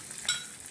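Mustard seeds, chana dal, urad dal, cumin, fenugreek, green chillies and curry leaves splutter in hot oil for a tempering: a soft, faint crackle with one sharp pop near the middle of a very short stretch.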